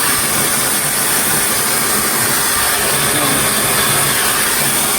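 A hair dryer blows hair with a loud, steady, broadband rush of air, unbroken and close for the whole stretch, with no voices over it.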